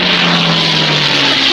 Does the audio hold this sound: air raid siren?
no